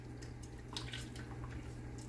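Water trickling and dripping from tomatoes in a colander, faint soft drips and a light splash over a low steady hum.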